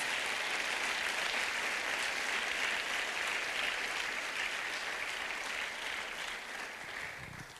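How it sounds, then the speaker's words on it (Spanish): A church congregation gives sustained applause as an offering to Jesus. It is a steady, dense wash of many hands clapping, evenly loud for several seconds and fading slightly at the end. "Esa ofrenda de palmas al Señor Jesús."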